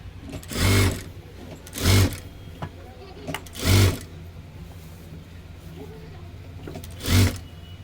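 A sewing machine stitching a sleeve onto a size-40 four-tuck blouse runs in four short, loud bursts separated by pauses, with the last burst after a longer gap.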